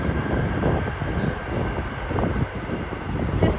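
A jet airliner lands at Chicago O'Hare, its engine roar and rumble heard steadily from a distance with broad, low noise that swells slightly and then fades.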